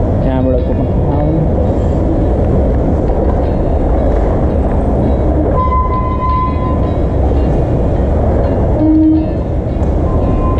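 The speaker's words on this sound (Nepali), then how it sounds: "अब हामी ट्रेनमा चढ्न लाग्यौँ" Train travel from Denmark toward Copenhagen and Berlin: a steady, loud rumble of a passenger train and station, with brief tonal hums or horn-like notes, continuous throughout under background noise.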